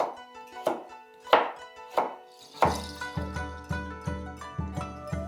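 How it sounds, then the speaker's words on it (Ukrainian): A knife chops carrot, cabbage, peppers and onion repeatedly on a cutting board, the thuds speeding into a quick, steady rhythm, close and fairly clear. "відкладаю і потім нарізаю всі овочі."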